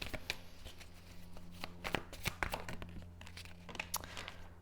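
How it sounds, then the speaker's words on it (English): A deck of tarot cards is shuffled by hand at close range, a quiet series of riffling flutters and sharp papery snaps in an uneven rhythm. "The cards are really difficult to shuffle for some reason"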